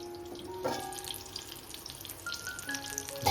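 Vegetables fry in a pan on a low gas flame, a soft steady sizzle with faint crackles heard close and alone.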